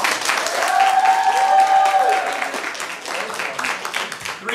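Steady audience applause with a few whoops for a contestant at an improv comedy tournament, a sustained wash of clapping that eases slightly toward the end.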